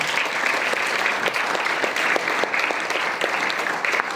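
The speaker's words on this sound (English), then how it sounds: "So give them a big round of applause." Students applaud steadily at a school gathering, a dense and sustained wash of clapping from many hands that holds at an even loudness throughout, with no speech over it.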